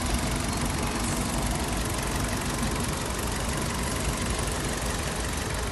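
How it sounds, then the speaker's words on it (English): A 1964 Fiat 500 engine idles steadily in its engine bay, a constant low mechanical chug with a rough, faintly knocking texture that stays unchanged and even throughout, with no voices over it. "the engine has been running since we started the video"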